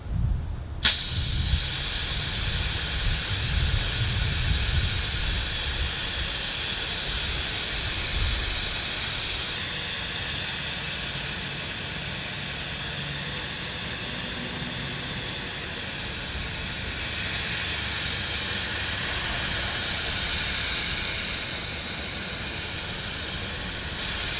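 An UnderHill fire nozzle spraying water at high flow and full throttle makes a steady, loud hissing roar of rushing water that holds constant throughout, with a slight shift in tone partway through.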